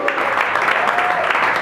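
Audience at the Broadway Comedy Club main room applauding the host, a steady, loud wash of clapping from a packed room filling the whole moment with scattered cheers.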